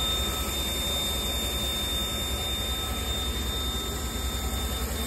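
A Chevrolet Tahoe's Vortec engine running on wood gas from a woodgasifier, idling as a steady, even hum with a faint whine, unchanging throughout and without talk.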